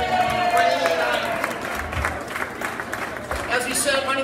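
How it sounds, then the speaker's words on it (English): A crowd in a Lake Erie island bar, the Roundhouse Bar on its 2018 closing night, claps and cheers loosely in a busy room, with someone talking over the applause throughout. "how about a big round of applause for Ray Fogg"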